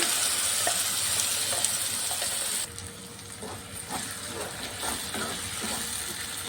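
Ground tomato chutney lightly frying in a pan gives a bright, loud sizzle that drops to a softer, crackling fry partway through, with occasional scrapes of stirring.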